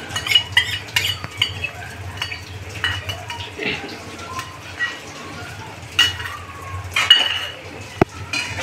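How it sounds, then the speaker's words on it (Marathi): Chicken being stirred with ginger garlic paste in a pan, a spoon scraping and clinking against the metal in irregular strokes, close and moderately loud, with a faint background hum. "ते आता आपण मिक्स करून घेऊया।"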